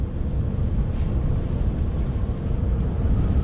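Strong wind sweeping across the Queen Elizabeth bridge in the UK, a loud continuous low roar buffeting the microphone, with no voices.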